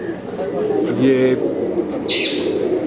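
Pigeons in a loft, including black birds and a grey one, coo softly and chirp close by while someone talks over them.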